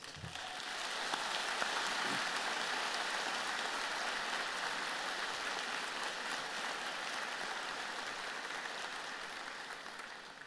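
Steady applause fills a large convocation hall as graduates of St. Michael's College (Sciences) are honoured, a dense, even roar of clapping that holds for the whole stretch and slowly eases toward the end.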